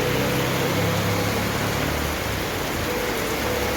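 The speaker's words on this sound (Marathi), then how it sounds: "एकदम खतरनाक पाऊस चालू झाला" Heavy monsoon rain in Pune drums down in a continuous roaring wash, loud and near, with a faint low rumble underneath and no talking.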